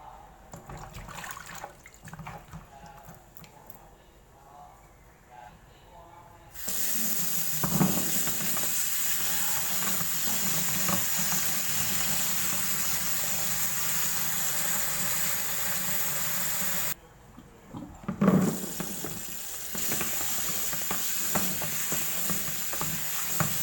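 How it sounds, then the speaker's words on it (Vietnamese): Dried longan and red dates are washed by hand under running water, the loud steady rush of the tap broken by a short pause, with splashing and rubbing in the bowl. "sau 5 phút thì mình rửa nhãn và rửa táo đỏ"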